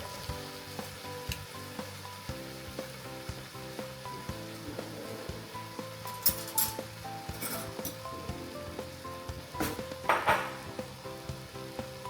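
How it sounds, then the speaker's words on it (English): Chicken simmers and fries in a hot pan with a steady sizzle, broken by occasional stirring scrapes and light clinks of a utensil against the pan, all close by with no talking. "just let that simmer for a couple of minutes"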